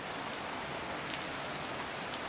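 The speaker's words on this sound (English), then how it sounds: "But anyway, rain." Steady rain falls on surfaces near a farm barn, a dense, even patter of drops with no break and no talking.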